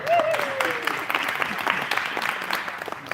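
An audience at a talk applauds a volunteer coming up front, a steady patter of many hands clapping at moderate distance, with a brief whistle at the start and faint voices underneath.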